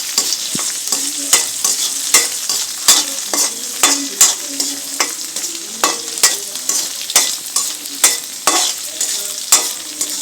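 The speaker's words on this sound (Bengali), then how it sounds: "ডিম ভাজা হয়ে গেছে" An egg frying in a pan with a pinch of salt, steady close sizzling punctuated by regular scraping and tapping strokes of a spatula, with no talk.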